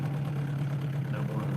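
Boat motor idling at low throttle on a lake while fishing, a steady low hum close by under faint background noise.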